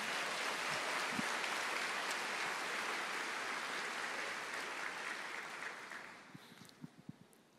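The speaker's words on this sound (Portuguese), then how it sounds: "Eu quero ver as palmas nisso aqui também" A church congregation claps together during a sermon, producing a dense, steady wash of applause that holds for several seconds and then thins out into a few scattered, separate claps near the end.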